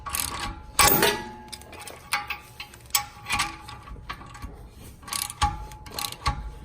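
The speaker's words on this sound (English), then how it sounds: "Now we're going to take our 1/2-inch socket wrench with 21mm socket. Get it as tight as you can." Half-inch drive ratchet wrench with a 21mm socket tightening a bolt on a rear torsion bar install on a Fiat 500 Abarth, giving irregular clicking ratchet bursts and metallic clanks at close range with no talk.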